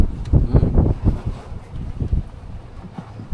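Strong wind buffeting the microphone outdoors while traveling from Bataan to Surigao, gusty low rumbling bursts that swell and ease over a few seconds, with no talk.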